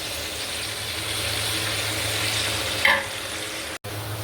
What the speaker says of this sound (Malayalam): ഫ്രൈ ആക്കി എണ്ണ ഒഴിച്ച് അതിലേക്ക് സവാള ഇടാം.